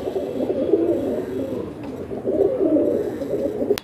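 Pigeons coo steadily in a close, loud, continuous low burbling from several birds at a pigeon seller's, with no talking over it.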